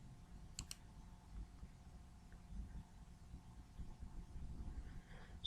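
A single faint click of a computer mouse pressing a button to run a program, quick and sharp early on, then only a quiet room hum.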